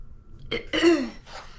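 A single short cough, close and fairly quiet, with a faint throaty catch before it.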